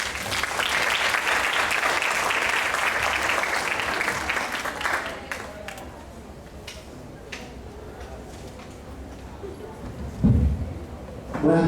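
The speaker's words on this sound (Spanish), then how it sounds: "Vamos a recibirlo con un fuerte aplauso," Audience applause welcoming a speaker at a psychology colloquium in Cartagena, a dense burst of clapping for about five seconds that fades out, followed by quieter room noise, a few scattered claps and a brief thump.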